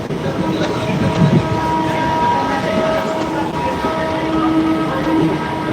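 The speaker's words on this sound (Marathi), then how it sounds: "कालचीच गाडी आहे मित्रांनो जे आपले बीड रेल्वे स्टेशनवर आलेली होती" Train standing at Beed railway station, a continuous loud rumble and hum of rail cars with faint tonal whines over a steady noisy background.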